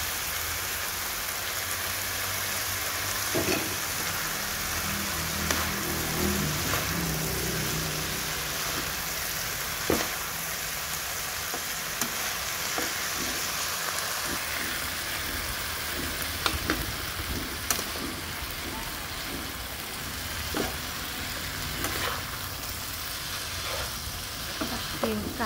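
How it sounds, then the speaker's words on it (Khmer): Cut Korean-style noodles stir-fried in a pan, a steady loud sizzle with scattered clicks and scrapes from stirring, continuous for the whole stretch with no voice. "កាត់ចូលហើយឆាច្របល់វាឲ្យសោះគ្រឿង"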